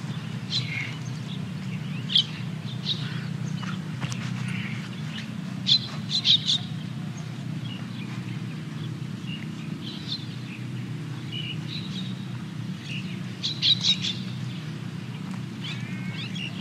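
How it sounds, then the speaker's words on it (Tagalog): Scattered bird chirps and short tweets over a steady low hum of outdoor background noise in a park, some calls close and some farther off. "Ayun, Jill, may mga ibon, Jill, oh."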